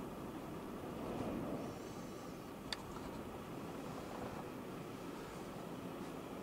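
A CSX freight train passing unseen in a snowstorm on track 1. It gives a faint, distant, steady rumble and rolling hiss with one brief sharp click partway through.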